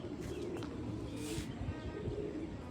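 Soft, low pigeon cooing drifts in under a steady background hum, faint and somewhat distant, with a brief brighter rustle midway.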